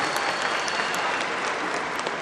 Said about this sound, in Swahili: Tumpigie makofi mengi sana Romain Folz.